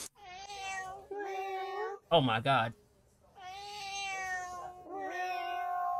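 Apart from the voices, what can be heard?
fat cat meowing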